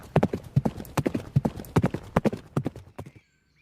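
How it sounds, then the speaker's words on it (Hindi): A horse's hooves clip-clop in a brisk, even rhythm on hard ground as a sound effect in a Hindi story narration. Roughly a dozen close, crisp strikes are heard before they stop abruptly into near silence. "घोड़े पर मोहन पीछे पीछे था"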